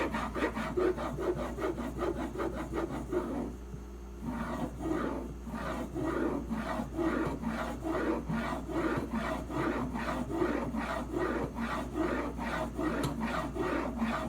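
A knife blade drawn repeatedly across a sharpening stone in a clamp-style angle guide gives steady rasping strokes in an even rhythm, close up and continuous, with a brief pause near the start.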